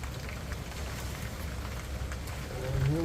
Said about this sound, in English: And here we go with the rain.